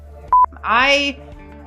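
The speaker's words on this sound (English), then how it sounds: "Shut that phone up." A phone gives one short, sharp electronic beep, loud and close, followed by a person talking.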